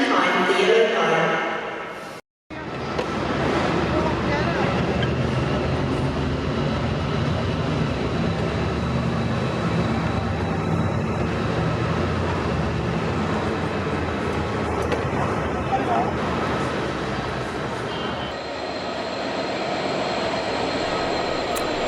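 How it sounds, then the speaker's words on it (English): A freight train bound for Moss End pulls into platform 3 at a station, its low continuous rumble and rolling wheel noise filling the stretch after a brief gap, with a voice speaking over it. "A freight train bound for Moss End arrived in platform 3, more or less on time"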